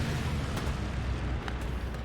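A Tiger tank exploding in a tank battle video game, a deep continuous low rumble with a few faint crackling bursts, steady and dense throughout.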